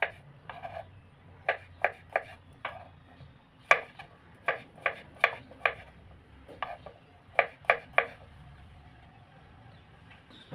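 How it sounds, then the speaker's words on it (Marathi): Mushrooms chopped finely with a knife on a board, a string of crisp, close, evenly spaced taps that come in quick runs with short pauses between them. "तसे सर्व मशरूम पटापट बारीक कट करून घेते"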